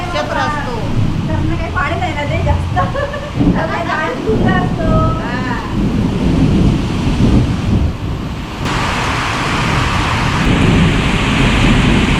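Voices talk over a dense roar of heavy monsoon rain in the Konkan, with low thunder rumbling through it and the downpour swelling louder toward the end.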